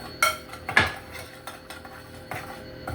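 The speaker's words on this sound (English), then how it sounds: "we're going to go ahead and stir this up" A utensil stirs cinnamon roll filling in a bowl, giving a few sharp clinks and scrapes against the bowl's side at irregular intervals, close and fairly quiet.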